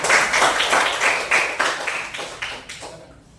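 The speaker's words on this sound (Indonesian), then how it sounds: "Kita beri tepuk tangan dulu untuk kelompok 1" A classroom group claps for the first student group in brief, light applause of scattered overlapping claps that fades out after a few seconds.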